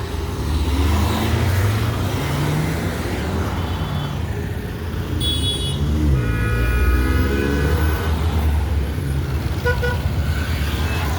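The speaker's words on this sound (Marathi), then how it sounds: "गाईज आता इथं तुम्ही गाड्या बघा फक्त तिथनं यायला लागल्यात" Road traffic with cars and other vehicles passing, a steady engine and tyre rumble with several short horn toots scattered through, fairly close and continuous.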